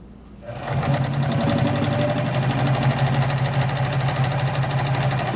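A Morse Fotomatic III sewing machine stitches a medium zigzag, starting after a brief quiet moment, then running as a steady, close, continuous mechanical whir with a rapid rhythmic needle pulse throughout.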